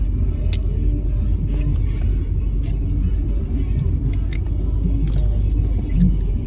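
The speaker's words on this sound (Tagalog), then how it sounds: "Nandito kami sa kotse." Steady low road rumble inside a moving car in traffic, constant and close, with faint thumps and small clicks over it and no clear talk.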